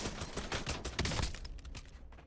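Rapid automatic gunfire in Call of Duty Warzone, a dense string of sharp shots over about two seconds, fairly faint overall and tapering off at the end, with no talk.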